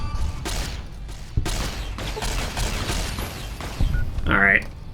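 Scattered gunshots in Fallout: New Vegas, a few dull cracks and thumps spaced through the moment, mixed with mechanical clicks and someone talking over them.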